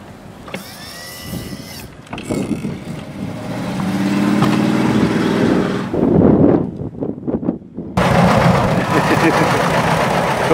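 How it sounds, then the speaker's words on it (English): John Deere vehicle engine rumbling through a snowy town during a blizzard in Chicago, a low engine drone with wind buffeting the microphone, while people talk nearby. "Don't see a John Deere going through our town very often."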